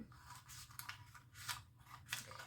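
Scissors snipping paper for a scrapbook page kit, several quiet close cuts at an uneven pace with small pauses between the snips.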